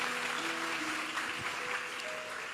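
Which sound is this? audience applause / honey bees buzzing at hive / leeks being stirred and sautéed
audience applause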